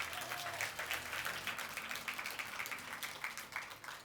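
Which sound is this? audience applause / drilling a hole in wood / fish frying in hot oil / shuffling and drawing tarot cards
audience applause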